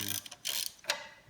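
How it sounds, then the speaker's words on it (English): Ratchet wrench loosening bolts on a Ram 1500, heard as a few short bursts of rapid clicking separated by brief pauses, close and fairly quiet. "put your wrench on loose mode"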